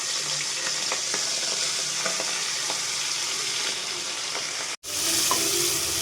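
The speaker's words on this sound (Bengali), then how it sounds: "বেছে ধুয়ে রাখা চিংড়ি মাছগুলো আমি তেলে দিয়ে দেবো" Tiger prawns fry in hot oil in a kadai for a prawn and potato curry, giving a loud, steady sizzle with small crackles throughout, broken by a brief silent gap near the end.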